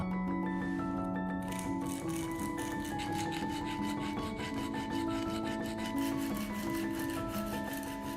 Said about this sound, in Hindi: इसको और भी आसान बनाने के लिए हमने इस तरह के रेगमाल टेप का इस्तेमाल किया।